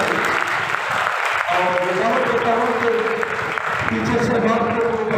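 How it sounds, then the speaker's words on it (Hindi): Clapping from the audience at a children's ministry Easter program, steady applause that runs through the whole stretch while a voice talks over it. "आप भी उन्हें तालियों के साथ अपनी खुशी का इजहार करें"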